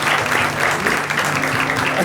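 Studio audience on a Macedonian talk show clapping continuously, a dense, even wash of many hands held at a steady loud level throughout, with no voices standing out.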